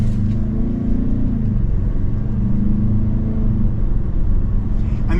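A 2024 Ford Bronco Sport Badlands with a 2-liter engine pulls away from a stop, its steady, loud engine drone and road rumble rising slightly and filling the cabin without any talk.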